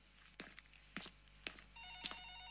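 A telephone rings at a hospital during a night shift, its electronic ring starting after a few soft footsteps and continuing steadily, fairly close and moderately loud in a quiet room.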